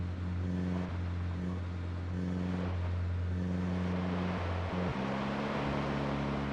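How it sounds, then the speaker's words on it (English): A car engine in the video game Project Zomboid drones loudly and steadily, shifting pitch partway through as if changing gear or revving, with nothing else over it. "God, the car sounds so loud."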